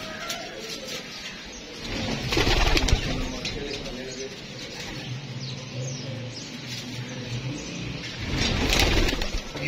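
Pigeons in a loft area coo softly and intermittently, with louder bursts of wing flapping near the start and end as the birds are let out; low murmuring voices and background noise run throughout.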